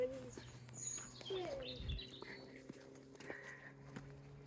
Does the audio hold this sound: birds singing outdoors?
yes